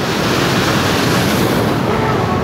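Waterfall in a native forest, heard as a steady, loud broadband rush of falling water that stays constant throughout, with no other sounds standing out.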